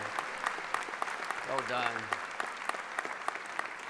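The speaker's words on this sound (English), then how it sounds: "Can we just give these amazing students you just heard from another round of applause?" Audience applause at a university convocation ceremony, steady clapping throughout with a brief spoken line over it.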